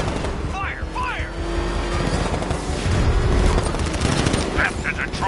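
Rapid bursts of gunfire from the Batman: Arkham Knight video game crackle through a dense, noisy action scene, mixed with engine rumble and shouted voices.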